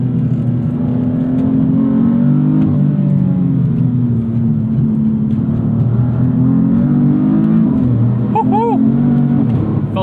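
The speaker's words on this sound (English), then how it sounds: "On the upshifts, you get that nice theatrical jolt." A 2016 BMW M3 F80 engine pulls hard under acceleration, its loud, steady drone rising and dipping through upshifts, heard from inside the car with talk over it.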